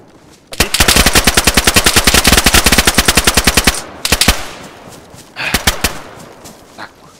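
Automatic gunfire in a DayZ firefight, a long rapid burst of loud close shots followed by shorter bursts and scattered single cracks as the shooting trails off.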